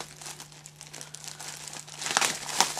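Plastic packaging over an APC ES 750VA battery backup is cut open, giving close, continuous crinkling and tearing that grows louder toward the end.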